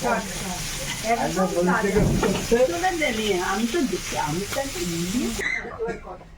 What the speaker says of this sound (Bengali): সব মাছ ভাজা হয়ে গেছে